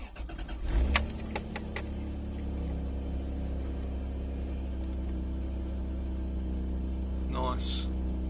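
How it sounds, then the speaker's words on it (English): A Toyota Supra Mk4 engine cranks with a short loud burst and catches, then settles into a steady, even idle hum that holds to the end, with a brief faint voice-like chirp near the close. "Just turn the car on and see."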